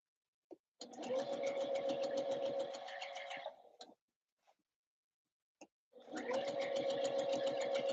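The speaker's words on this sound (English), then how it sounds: "I'm just gonna sew the first layer on." A sewing machine stitches the first layer of a Christmas dress in quick, even bursts: a run of about three seconds, a pause with a few small clicks, then stitching again, close and moderately quiet.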